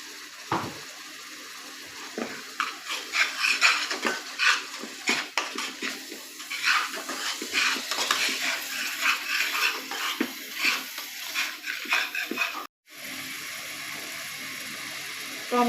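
Spice paste for chicken liver curry is stir-fried in a pan with little oil, giving irregular, close scraping strokes and soft sizzling over a low hiss, with a short silent break near the end.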